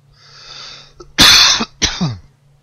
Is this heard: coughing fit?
yes